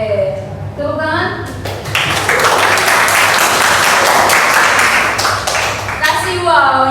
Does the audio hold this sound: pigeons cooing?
no